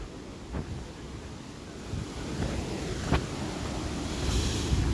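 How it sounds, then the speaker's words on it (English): Mountain waterfall rushing with a continuous, fairly loud broadband roar that slowly swells, mixed with gusty wind buffeting the microphone and no talking. "Waterfall."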